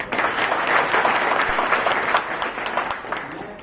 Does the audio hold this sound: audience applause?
yes